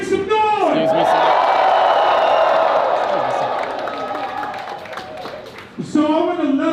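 A rally crowd in San Francisco roars with cheers, whoops and some clapping, loud and sustained for several seconds, then fading before a single voice rises sharply near the end.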